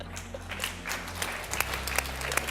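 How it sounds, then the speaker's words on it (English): An audience at a talk show claps along in rhythm, a dense run of hand claps filling the room over a faint low background hum. "the audience gleefully claps along"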